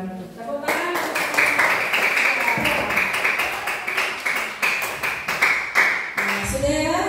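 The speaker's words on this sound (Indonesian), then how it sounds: "Tepuk tangan" A classroom of students clapping together after a group presentation, a busy stream of close, sharp claps lasting several seconds, with voices starting up at the end.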